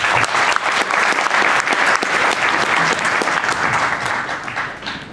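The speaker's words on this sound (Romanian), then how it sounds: "Haideți la aplaudă!" Audience applauding a startup pitch presentation at a Netcamp launch event, dense loud clapping sustained throughout with no voices.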